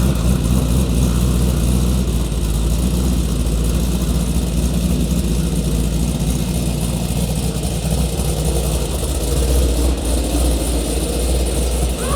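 An LS V8 engine swapped into a BMW X5 idles close by with a loud, steady, rumbling drone and a slightly uneven low throb that holds for the whole stretch.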